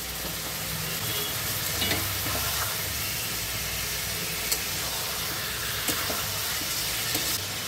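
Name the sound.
mutton frying and stirring with ginger-garlic paste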